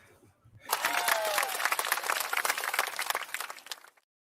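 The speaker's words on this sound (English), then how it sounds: "Oh, I'm going to clap for that comment." Enthusiastic clapping from a few podcast hosts on an Xbox gaming show, starting abruptly and staying dense and close for about three seconds before cutting off, with no talking over it.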